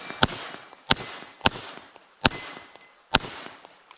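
Gunshots ring out at an outdoor shooting range during a transition drill. Five sharp reports come at irregular intervals, each a loud, crisp crack followed by a short decaying tail.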